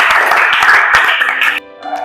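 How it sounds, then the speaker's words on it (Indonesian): A classroom group claps loudly and briskly for the second student group during a fiqh lesson on Friday prayer, then the clapping cuts off abruptly, leaving a faint lingering tone. "Iya, tepuk tangan untuk kelompok 2."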